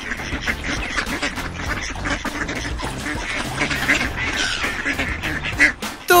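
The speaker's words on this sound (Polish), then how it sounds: "Kaczka kwacze! Kwa, kwa!" Farm duck quacking repeatedly in quick, uneven bursts, loud and close, with a few brief pauses and no voices over it.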